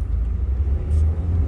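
A taxi car ride near Samarkand, Uzbekistan, with a steady low engine rumble and road drone throughout, close and continuous, with no talking over it.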